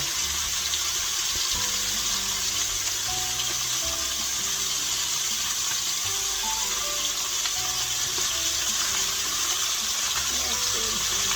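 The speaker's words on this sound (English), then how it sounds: "So we're going to continue to fry away" Sausage frying in a skillet produces a constant, watery sizzling hiss that runs without a break, with someone talking over it at times.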